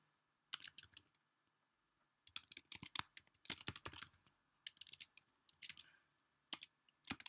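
Quiet bursts of clicking keystrokes on a computer keyboard come in irregular clusters with short pauses while entries are typed into a spreadsheet form.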